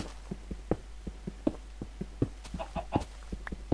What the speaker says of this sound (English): I hear a chicken outside.